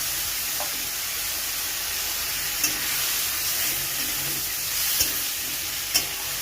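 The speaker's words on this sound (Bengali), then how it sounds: "এবার দিয়ে ভালো করে আলুর সাথে কষিয়ে নেব যতক্ষণ না আদার কাঁচা গন্ধ যায়।" Potatoes fry with ginger paste in a hot pan, a steady close sizzle and hiss running throughout, with a few soft scrapes of stirring breaking through now and then.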